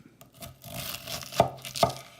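Roll chopping with a kitchen knife on a cutting board, a few soft rocking cuts followed by two sharp, distinct knocks of the blade, close and fairly quiet with no voices.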